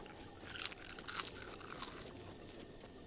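Crisp, close crunching and chewing of small rectangular seaweed snacks, several quick bites in a loose irregular rhythm, fairly quiet and with no voices.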